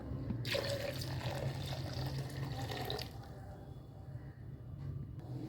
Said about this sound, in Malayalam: ഇനി നമുക്ക് ഇതിനകത്തോട്ട് ബാക്കി വെള്ളവും കൂടെ ഒഴിച്ചു കൊടുക്കുക